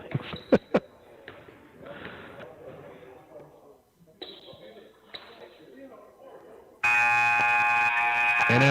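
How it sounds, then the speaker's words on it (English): End-of-game buzzer at a high school boys' basketball game in a gym: a loud, harsh, sustained electronic blare cuts in near the end and holds, after a stretch of commentary, crowd noise and sharp ball bounces and thumps. "And as the buzzer sounds, Balderrama misses, and that'll do it."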